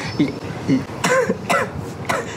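A person clears their throat and coughs several times in a row on a school staircase, close and fairly loud, with short rough bursts.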